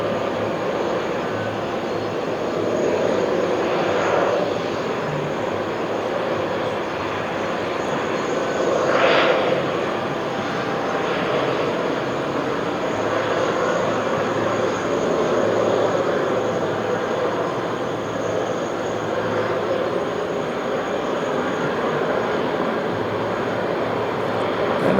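Jet airliner arriving at JFK from Munich, heard as a steady, broad engine roar that rises and falls gently over a long stretch, moderately loud and continuous, with no speech.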